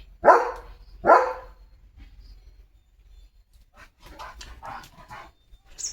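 Two sharp, loud barks come from Leo, a German Shepherd, close by, followed by quieter scattered sounds and faint noise.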